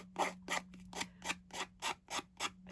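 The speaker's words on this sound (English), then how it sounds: "Another thing you can do is use a file. Just go around the edges." A file is worked around the edges of paper for a folio craft, giving eight or nine steady rasping strokes at a regular rhythm under a faint constant hum.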